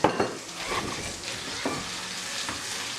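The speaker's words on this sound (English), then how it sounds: "And you cook this first" Chorizo sizzling in oil in a frying pan, a steady bright crackle with occasional soft stirring scrapes and light clinks, close and alone without talk.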